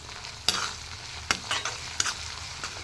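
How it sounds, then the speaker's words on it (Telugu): Pieces of spicy chicken frying in a pan toward golden brown, a steady close sizzle broken by several sharp scraping stirs of a spatula, with no talking. "ఇవి గోల్డెన్ బ్రౌన్ వచ్చే వరకు ఫ్రై చేసుకోవాలి"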